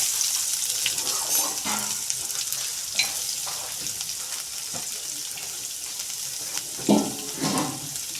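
Urad dal, crushed garlic and onion fry in a pan for a steady, soft sizzle with occasional stirring scrapes and clinks, close and fairly quiet.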